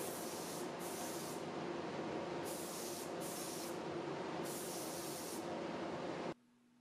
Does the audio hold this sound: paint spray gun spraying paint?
yes